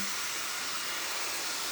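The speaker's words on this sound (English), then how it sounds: "This new dryer is very strong." A craft dryer blows air on its low setting, giving a steady, close, even hiss with no other sounds.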